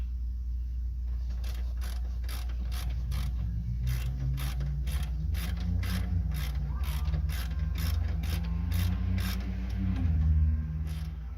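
A hand ratchet clicks in quick steady bursts while a bolt is driven into the rear control arm mount of a 2006-2011 Dodge Magnum, Charger or 300, close up over a low garage hum.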